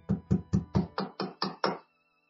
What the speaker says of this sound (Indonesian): Pintu kamar diketuk oleh seseorang.